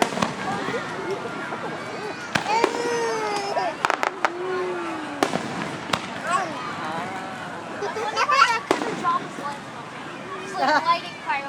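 Fireworks crackle and pop in sharp bursts with whistling streaks at Lake Geneva, while people talk and shout nearby.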